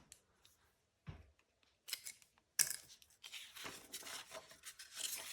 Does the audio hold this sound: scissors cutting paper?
yes